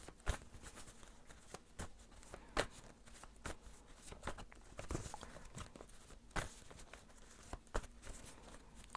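Soft, irregular riffles and taps of shuffling tarot cards, quiet and close, with brief pauses between bursts.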